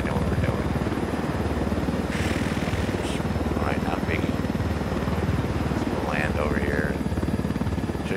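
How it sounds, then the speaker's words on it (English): A large helicopter in Ghost Recon Wildlands drones with a constant loud rotor and engine roar throughout, while voices talk over it. "I need this big ass helicopter to do this op"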